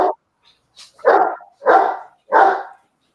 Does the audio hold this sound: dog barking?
yes